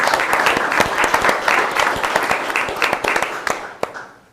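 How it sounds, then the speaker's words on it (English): Audience at a school district State of the Schools event applauds steadily, with dense clapping from many hands filling the room and a few sharper nearby claps standing out before it tapers off. "I'd like to offer up a round of applause for all those people"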